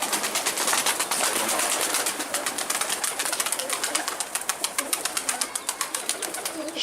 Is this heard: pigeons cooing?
yes